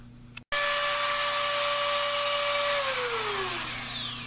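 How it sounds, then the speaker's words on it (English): A Dremel rotary tool grinding a Mossberg 930 shotgun forearm makes a loud, close, steady high-pitched whine that starts abruptly and then winds down in pitch near the end, with no talking. "definitely using the Dremel over the file is the way to go"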